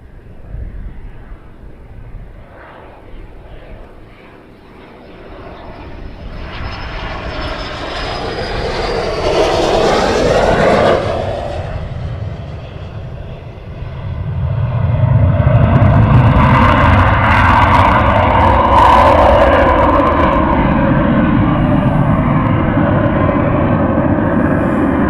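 Aircraft engine noise at RAF Valley, a jet roar swelling from a distant whine into a loud, broad rumble that peaks twice over a long stretch, heard outdoors from afar.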